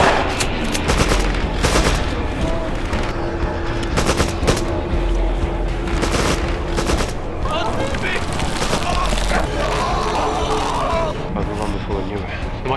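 Gunfire rattles through a zombie shooter video game as dense, loud bursts of automatic fire and booms, with character dialogue heard through the action.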